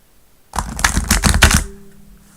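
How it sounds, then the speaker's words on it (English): Tarot cards are shuffled in a single quick riffle, a burst of rapid crisp flutters and clicks lasting about a second, close and fairly loud, then settling into quiet. "That was an okay shuffle."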